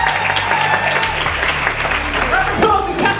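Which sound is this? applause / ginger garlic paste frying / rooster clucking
applause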